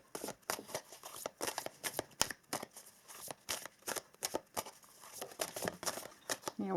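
A deck of oracle cards being shuffled by hand, quick rhythmic riffles and flutters repeating closely throughout, fairly quiet.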